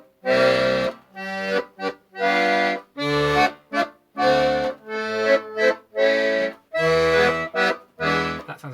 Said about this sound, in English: the bass side sounds like this.